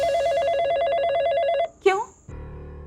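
A landline telephone rings in a repeating electronic trill, loud and close, then breaks off as a short voice cuts in and a muffled room tone follows; set in a Bhojpuri TV serial household.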